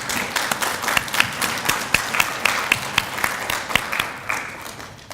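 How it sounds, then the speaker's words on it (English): An audience at a Gamma Beta Phi honor society induction ceremony applauds the new inductees, giving steady sustained clapping from many hands with individual sharp claps standing out, fading slightly at the end. "Let's have one more round of applause for them."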